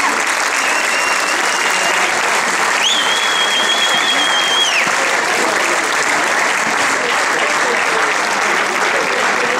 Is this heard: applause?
yes